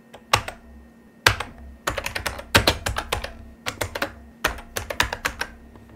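Fast bursts of keystrokes clatter on a computer keyboard while someone types in a Python file in Emacs, irregular clusters of crisp clicks with short pauses between, close and clear over a faint hum.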